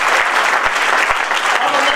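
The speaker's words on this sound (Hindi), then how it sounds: "एक बार तालियां बनती है।" An audience at a business achievers celebration bursts into loud, dense applause, a close and steady wash of clapping with a few heavier thumps scattered through it.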